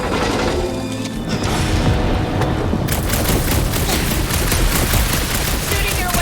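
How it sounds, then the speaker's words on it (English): Dense gunfire from the Guardians of the Galaxy video game rattles loudly and continuously at close range, rapid bursts and booms merging into a sustained barrage with no talk over it. "Shooting your way out of every problem again, Peter?"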